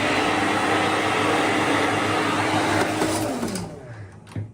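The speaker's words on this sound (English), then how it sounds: "There's a hairdryer." A steady, loud whooshing motor drone of a hotel-room hair dryer runs close by, then winds down and cuts off near the end with a click.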